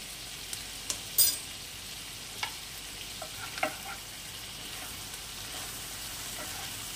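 Spices fry with katla fish in a pan, giving a constant close sizzle broken by a few sharp pops and light stirring clinks.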